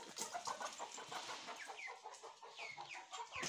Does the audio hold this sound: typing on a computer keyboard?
no